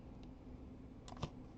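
A Shift key pressed on a computer keyboard during editing work. Faint key clicks come first, then one sharper, slightly louder click near the end over a steady low room hum, with no talking.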